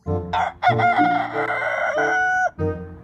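A rooster crows loudly and close by, one long drawn-out call with a brief cluck at either end.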